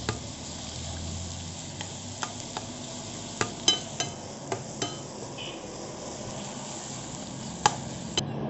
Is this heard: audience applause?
no